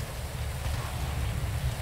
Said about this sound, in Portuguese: Que chuvarada.